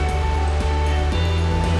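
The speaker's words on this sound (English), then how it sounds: "I can hear it from here. We're gonna go see some cool waterfalls." A waterfall near Langjökull glacier in Iceland gives off a constant, dense rushing roar with no pauses and no voices.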